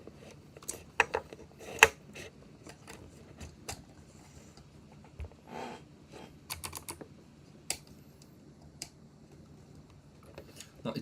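Keys tapped on a computer keyboard while setting up a Jetson Nano robot kit, heard as scattered irregular clicks and bursts of key presses, fairly close and moderately quiet, with no talking.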